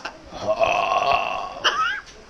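A large macaw gives a drawn-out, close burp lasting about two seconds, guttural and raspy with a tonal edge, ending in a short squeaky note.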